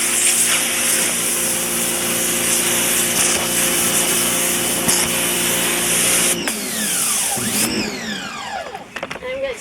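A power washer blasts a rabbit hutch's slide-out bottom tray with a loud, steady, close hiss of spray that runs continuously, then breaks into shifting, uneven bursts near the end.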